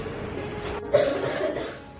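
A single short cough near the middle, close and fairly clear, with only quiet background before and after.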